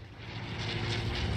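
Propeller airplane droning in a battle royale video game, a short, steady, fairly faint engine hum with no voices over it.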